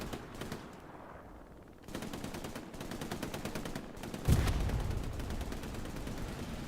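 An MG42 machine gun fires in the World War II shooter Hell Let Loose, long rapid bursts of rattling fire with brief pauses, loud and close, joined by a heavy explosion-like thump partway through.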